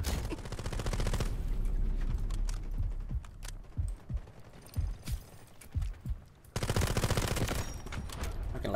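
Gunfire from a hard-recoiling semi-automatic rifle in the shooter game Delta Force Hawk Ops: dense rapid bursts at the start and end, with separate loud single shots in between, close and punchy, no talk over them.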